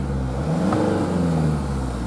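Mercedes C200 Estate with 67,000 miles idling smoothly at a garage forecourt, a steady continuous engine drone heard up close with broadband road or wind noise and no voices.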